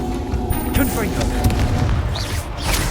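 A Confringo fire-blast spell from Hogwarts Legacy erupts in several booming, rumbling explosions over busy combat sounds, with a voice speaking throughout.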